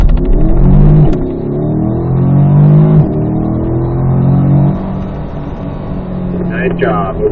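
A Corvette at a performance driving school launches from a standstill, its engine revving loudly and climbing through rising, falling pitch sweeps as it accelerates hard, with an instructor talking over the noise.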